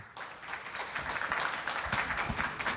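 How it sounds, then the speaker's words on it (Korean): Audience applause greeting a guest speaker, the head of a science and technology innovation office, at a KAIST lecture event, a sustained wash of clapping that builds and holds for several seconds at moderate level. "큰 박수로 맞이해 주시면 감사하겠습니다"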